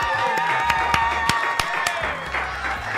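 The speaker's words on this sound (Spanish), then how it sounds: "Yo pido un aplauso, damas y caballeros," A radio-studio audience claps to welcome a new columnist onto a morning show, a moderate burst of scattered hand claps with some cheering, steady throughout and fairly close.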